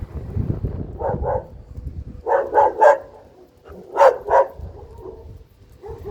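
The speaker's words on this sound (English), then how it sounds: "There's puppies." Puppies barking outdoors: two clusters of short, high yips, about three then two, rising over rustling and wind noise on the microphone.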